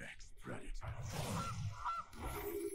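Goose token honks in Magic: The Gathering Arena, a series of loud nasal honks and cackles close up, with a voice faintly present underneath.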